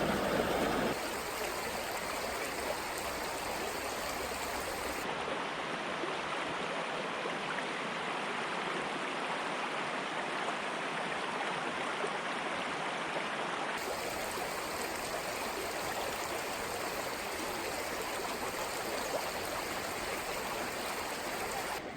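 Water flowing steadily in a small wild trout stream in Schuylkill County, Pennsylvania, a continuous close rushing babble that holds even throughout, with no voices.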